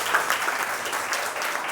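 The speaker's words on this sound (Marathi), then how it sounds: "पुनश्च एकदा जोरदार टाळ्या सत्कारपूर्तीसाठी झाल्या पाहिजे" A hall audience at a felicitation ceremony in Nagpur applauds, a dense steady patter of many hands clapping that fills the short moment evenly.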